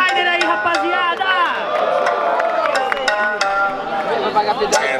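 A live audience at a student rap battle in Guarulhos cheers and claps for a rapper, with loud whoops, shouts and scattered sharp claps overlapping into a continuous, close crowd roar, voices calling out throughout.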